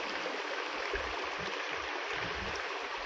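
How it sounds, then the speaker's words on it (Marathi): A small mountain stream on the Korigad trek near Lonavala flows steadily, a continuous broadband rush of water heard close and alone, without voices. "आणि हा असा सुंदरसा झरा."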